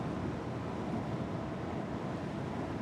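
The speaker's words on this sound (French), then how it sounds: "je me prends du vent dans la visière, c'est relou là" Steady roaring wind buffets a helmet visor while riding a Segway GT3 Pro electric scooter at speed, a constant loud rushing noise close to the microphone with no talking.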